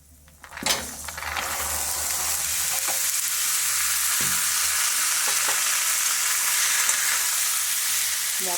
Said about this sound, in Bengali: এবারে আমি ঘুগনির সব কড়াই আলু সব এবারে এতে দিয়ে একটু কষে নেব